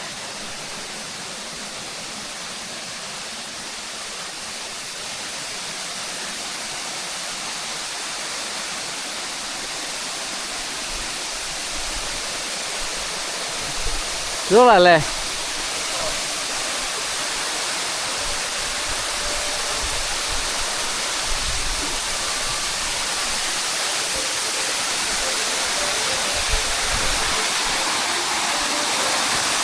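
A small waterfall in Karangahake Gorge pours in a steady, broadband rush that fills the whole stretch evenly, with one brief voice cutting through near the middle.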